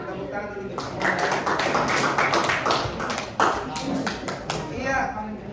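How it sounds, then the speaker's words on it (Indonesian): Students in a classroom clap their hands together in a quick, uneven patter of applause lasting several seconds, with voices talking over it. "silakan tepuk tangan dulu untuk semuanya"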